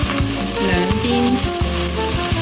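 Chicken legs sizzle skin-side down in hot oil in a wok, a continuous close frying hiss with occasional metallic taps from stirring.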